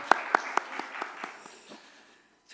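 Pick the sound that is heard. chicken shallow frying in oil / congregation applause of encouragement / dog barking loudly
congregation applause of encouragement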